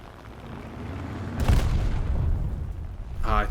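A small bomb dropped from an F4U-4 fighter bursts in a video game with one loud, low boom, trailing into a rumbling roar under steady engine drone.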